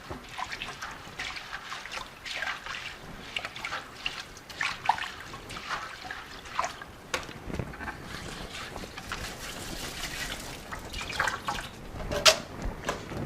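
Warm water sloshes and trickles over microgreen seeds being rinsed and stirred in a container, a soft continuous wash of splashing with small drips, close and fairly quiet.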